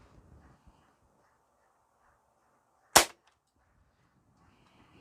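A Crosman Legacy 1000 air rifle, pumped twelve times, fires a pellet in a single sharp, loud crack that stands alone against faint background hiss with near silence before and after.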